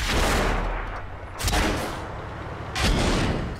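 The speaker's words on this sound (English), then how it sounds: "Watch where those shells are coming from." Artillery shells bursting in World of Tanks during heavy tank combat: loud, booming detonations arrive in a few separate waves, each a sharp broadband blast fading into a rumbling tail over ongoing battle noise.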